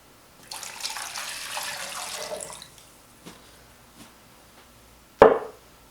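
Tap water, 240 ml, poured for a dry-ice Halloween cocktail: a steady hissing pour lasting about two seconds, then a few soft taps and one sharp clack of glassware near the end.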